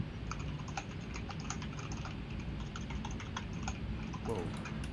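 A noisy computer keyboard clatters with rapid, uneven keystrokes close by, a steady run of clicks and taps over a low background hum.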